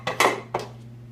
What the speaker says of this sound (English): The supplies you need are a pot about this size